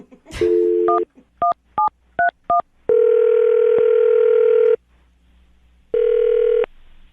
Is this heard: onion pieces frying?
no